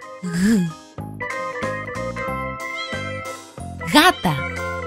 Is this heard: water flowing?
no